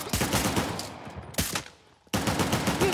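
Rapid automatic gunfire in the video game Uncharted The Lost Legacy, dense bursts of loud shots rattling continuously with a brief lull and a single sharp report before the firing resumes at full intensity.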